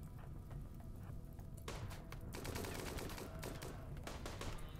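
Rapid bursts of Rimworld gunfire crackle continuously, dense and sharp, with heavier volleys in the second half over a steady background hum.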